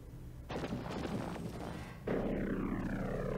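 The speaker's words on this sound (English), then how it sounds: "There's deploying the laser cannons. Let's blast these suckers." Laser cannons firing during a space battle in the strategy game Endless Space 2, a sustained burst of booming energy blasts that surges louder partway through, with rapid shots layered over a low rumble.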